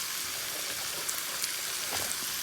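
A flat iron steak sears in a cast iron skillet with a steady, close crackling sizzle and a few brief pops, no voices over it.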